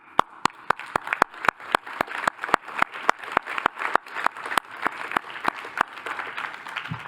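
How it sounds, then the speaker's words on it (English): Applause at an awards ceremony: steady rhythmic clapping with sharp regular beats over a softer wash of scattered claps, fading slightly toward the end. "Let me give you an applause."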